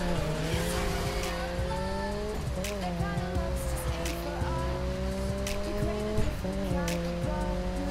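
A police car tears along in The Crew, its engine droning steadily with pitch shifts as it changes gear, while tires squeal repeatedly through hard turns, loud and continuous over eight seconds.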